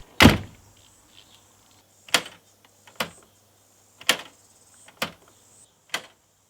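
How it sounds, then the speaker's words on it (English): A series of sharp mechanical clicks and clunks, six in all, spaced about a second apart, as a repaired Land Rover passenger door lock is worked repeatedly. "So, with the passenger door lock working fine, the unlocking car procedure has become considerably easier."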